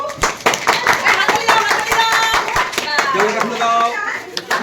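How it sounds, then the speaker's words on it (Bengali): Schoolchildren at a primary school clap together in quick, uneven bursts, loud and close, mixed with children's voices chattering over the clapping. "হাততালি দাও"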